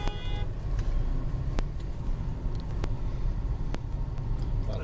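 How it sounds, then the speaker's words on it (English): Highway traffic rumbles steadily around a vehicle, with a short horn toot at the start and several sharp clicks or knocks scattered through. "A lot of traffic here."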